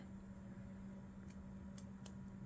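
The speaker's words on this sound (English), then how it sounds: "I think what I'm going to do is just cut this off" Paper is cut with scissors in short, faint snips against a steady background hum, with a few crisp clicks near the end.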